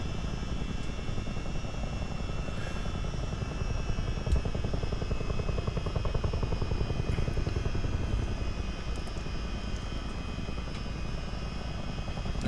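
A simulated CH-47D Chinook twin-rotor helicopter drones loud and steady, its rotor blades beating out a fast, even thumping slap over a constant engine whine throughout, with no talking.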